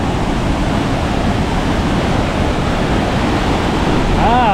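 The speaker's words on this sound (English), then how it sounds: "Ah, but we can see another waterfall from here." The Gitgit twin waterfall in North Bali roars with a steady, loud rush of falling water, close and unbroken throughout, with a faint whistling chirp near the end.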